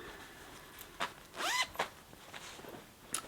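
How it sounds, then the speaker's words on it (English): Zipper on a larger zippered bag from a fiber company, a quick rasping pull near 1.5 seconds with a few small handling clicks before and after, close and fairly quiet with no talk. "a larger zippered bag"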